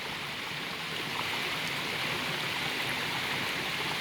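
A tiny river with slippery stones flowing steadily nearby, a constant close rushing babble of water with no voices.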